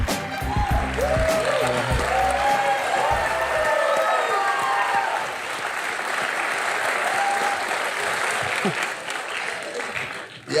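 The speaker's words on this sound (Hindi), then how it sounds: "मगर इतनी देर तक तालियां नहीं मारते उनके लिए" A television studio audience gives sustained, loud applause for a guest's entrance, a dense wash of clapping with a few cheers that runs for about ten seconds. Voices are heard faintly within it.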